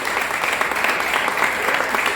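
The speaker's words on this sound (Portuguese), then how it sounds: "Vamos dar uma salva de palmas ao Senhor." A congregation at a church fasting and prayer service claps together in a dense, even wash of applause that holds steady for a couple of seconds, fairly loud and without speech.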